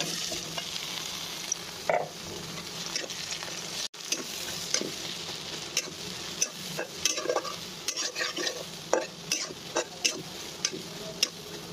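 Hilsa fish frying in cold-pressed mustard oil, foaming heavily, gives a steady close sizzle with repeated scraping stirs and occasional utensil taps, no talking.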